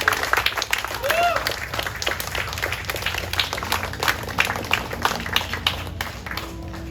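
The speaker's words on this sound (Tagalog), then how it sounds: "tayo pong lahat ay pumalakpak ng malakas" A crowd at a funeral inurnment service applauds loudly with dense, sustained clapping, broken by brief cheers and shouts throughout.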